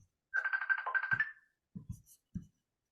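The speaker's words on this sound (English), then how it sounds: "Somebody ringing me right now." A phone ringtone plays a short, bright warbling melody for about a second, close and clear, then stops, leaving a few soft low knocks in a quiet room.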